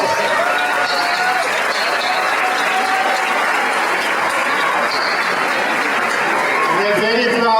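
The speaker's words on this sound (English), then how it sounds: "Please stand up and give them a round of applause." Steady applause from a graduation ceremony crowd, loud and continuous throughout, with a dense wash of clapping and no pauses.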